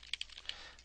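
A few quick clicks of typing on a computer keyboard, soft and close, lasting less than a second.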